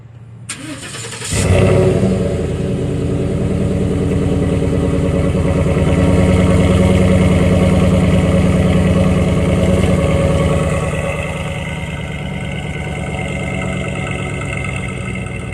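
A 2014 Ford F150 with the 5.0 V8 and a cheap resonator delete with the packing removed fires up with a sharp crank, then settles into a loud, deep, rumbling idle that swells slightly with light revs.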